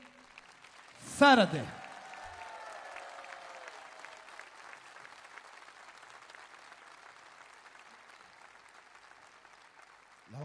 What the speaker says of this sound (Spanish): quiero una ovación muy fuerte también para mi bajista, el señor Alessi